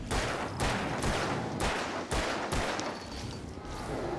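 Gunfire in the PC game Alan Wake: a rapid series of about eight loud, sharp shots at roughly half-second intervals, each cracking over a dense, noisy game backdrop.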